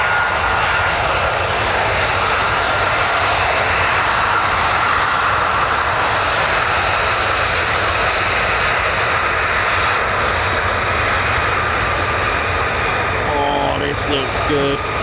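USAF F-15 or F-35 fighter jets of the 48th Fighter Wing at RAF Lakenheath take off and climb quickly, a loud, unbroken engine roar that fills the whole stretch and shifts slightly near the end.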